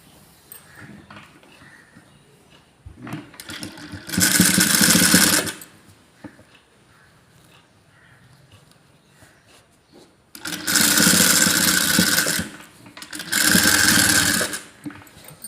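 Sewing machine stitching a folded seam on a dress top, running in three loud bursts of rapid mechanical chatter separated by quieter pauses with faint handling sounds.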